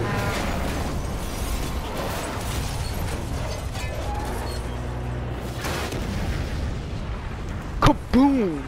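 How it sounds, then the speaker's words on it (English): Continuous rumbling explosions and booms from Marvel's Spider-Man game action fill the clip, ending with a few sharp electronic zaps. "Big explosion going on everywhere"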